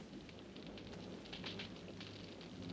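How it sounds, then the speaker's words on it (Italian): Steady rain falls outside as a dense, even hiss with no voices, a constant wash of drops lasting the whole moment. "Con tutta quella pioggia?"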